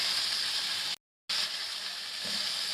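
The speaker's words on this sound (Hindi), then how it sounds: "चिकन को हम 5 मिनट तक फ्राई करेंगे।" Chicken fries in a pan for a restaurant-style Chinese chicken dish, giving a steady, fairly close hiss of sizzling oil, cut once by a brief moment of total silence before the frying resumes.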